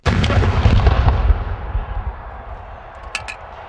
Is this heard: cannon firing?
yes